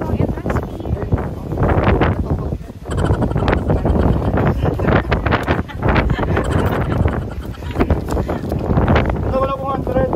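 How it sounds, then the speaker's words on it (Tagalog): Strong gusts of wind buffet the microphone at an open hilltop park, a loud rumbling roar under nearby talk and passing voices. "Oh my God, it's so windy here."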